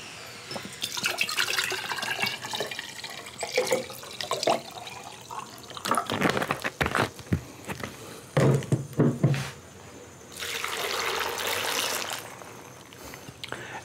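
A quart of cranberry juice is poured in several splashing, gurgling bursts of liquid, loud and close, separated by short pauses.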